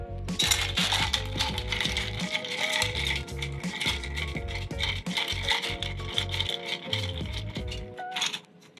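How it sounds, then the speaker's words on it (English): Gin cocktail with lemon juice and sugar stirred over ice in a glass, a long run of rapid, continuous clinking and rattling of ice against glass, close and steady, without any voices. "we're going to give it a stir."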